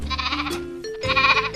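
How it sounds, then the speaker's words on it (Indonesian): A goat bleats in a couple of wavering, nasal cries with a brief break between them, loud and close. "kambing"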